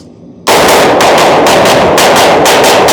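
A PSA JAKL AR-15 rifle fires 300 Blackout rounds: after a brief quiet, loud, close shots ring out in a rapid, fairly regular string of about ten.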